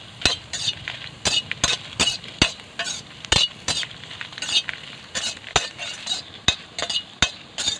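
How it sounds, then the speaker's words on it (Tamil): Beetroot pieces and four dried red chillies roasting in a pan for Tamil beetroot chutney, with a steady close sizzle and repeated sharp clinks of a metal spatula scraping and stirring at an uneven rhythm. "இப்போ இதுலேயே 4 வரமிளகாய் போட்டு வறுத்து எடுத்துக்கலாம்."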